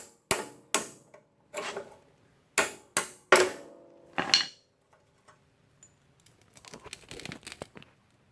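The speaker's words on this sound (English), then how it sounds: "I have to pull this little cotter pin and then try to pry the gear off without damaging anything." Metal clicks, clanks and light scraping as a small cotter pin is pulled and a gear is pried off an old David Bradley tractor's steering, several sharp close knocks, then quieter scattered ticking and rattling.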